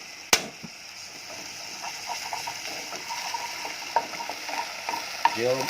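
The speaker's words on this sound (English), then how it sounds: "this goes into the frying pan again" Balinese sayur urap sizzles and clatters in a frying pan as it is stirred, with scraping utensil taps over a steady frying hiss and one sharp knock near the start.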